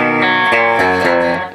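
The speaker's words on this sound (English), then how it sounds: "And then the distortion comes in." Distorted electric guitar playing a metal riff, loud and saturated with chugging chords and sustained harmonics, a few sharp attacks marking the rhythm over about a second and a half, with no voices.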